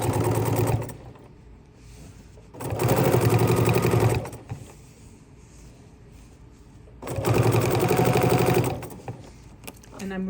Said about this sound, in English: I can stitch this nice and flat and pretty.